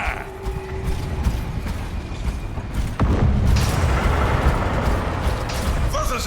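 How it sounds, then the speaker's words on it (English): Self-detonating robots explode against walls in Overwatch 2, a heavy boom landing around the midpoint and leaving a dense, rumbling wash of blasts and mechanical clatter amid game effects. "What are those explosions? They're using self-detonating robots to breach the walls."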